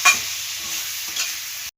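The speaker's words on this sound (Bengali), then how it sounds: "দিয়ে ভেজে নেব পেঁয়াজটা" Chopped onions sizzle steadily in hot oil in a pan for a chicken dish, a close continuous frying hiss with a sharp spatter at the start and a brief scrape midway before cutting off.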